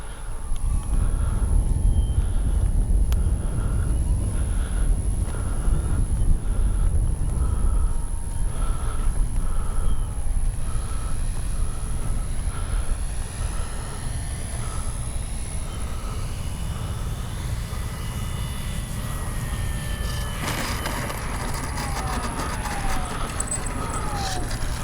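Avios Grand Tundra RC plane landing, its electric motor droning steadily and loudly, then reversing thrust with a shifting whine near the end, heard outdoors at a moderate distance.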